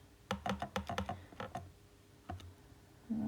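Calculator buttons pressed in a quick run of crisp close clicks, a short pause, then a few more taps.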